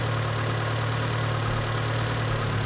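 A Daihatsu Taruna EFI engine idles at around 800 RPM after a tune-up, holding a steady, even, close-up hum with no throttle changes.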